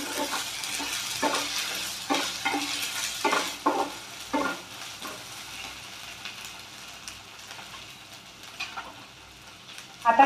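Ginger-garlic paste frying with onion in a pan: a close, rhythmic scrape and sizzle of stirring for several seconds, then settling into a quieter continuous hiss with a clatter at the end.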